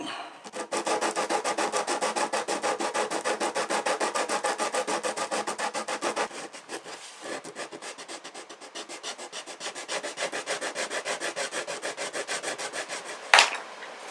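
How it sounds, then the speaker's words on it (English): Hand sanding with 180 grit sandpaper while leveling a bridge repair on a Carl Fischer guitar, a steady rapid rhythm of close, dry back-and-forth strokes that briefly pauses and resumes. "We're just trying to protect the surface and delineate the area that we're trying to sand, and this is just 180 grit."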